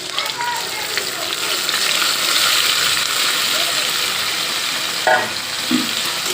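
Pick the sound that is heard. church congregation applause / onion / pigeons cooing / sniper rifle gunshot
onion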